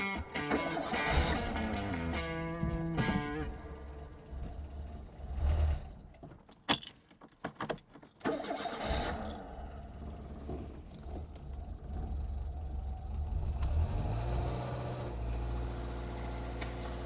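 Renault 5 Baccara small hatchback engine running steadily near the microphone, with clicks and a brief irregular patch partway through, then a low idle hum continuing to the end; no talking.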